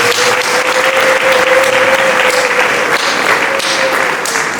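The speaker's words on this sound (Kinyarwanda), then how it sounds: "Dukomere Imana yacu amashyi." A church congregation at a Sunday service claps together in steady, dense applause that fills the room, with a faint sustained tone running underneath throughout.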